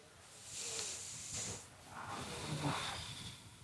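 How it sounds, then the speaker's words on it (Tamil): Slow, deep yoga breaths drawn in and let out during a menopause-relief session, a close, airy hiss rising and falling in about two soft cycles with no talk. "ஆழ்ந்த மூச்சு உள்ளே இழுத்து வெளியே விடலாம்."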